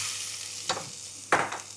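Onion frying in hot oil with cumin in a practical culinary training kitchen, with a steady close sizzle broken by two brief louder spitting bursts and no speech.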